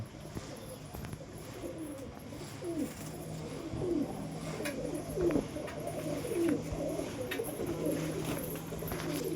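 Pigeons coo steadily inside a pigeon loft, their soft repeated rolling calls overlapping close by in a continuous chorus, with faint chirps now and then.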